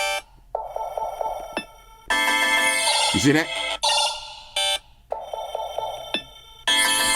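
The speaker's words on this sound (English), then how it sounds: "And this will be my Glyph ringtone." Nothing Phone 2a Glyph ringtone plays from the phone's speaker, bright electronic tones in choppy bursts that stop and restart with sweeping chirps in between, while someone speaks briefly over it.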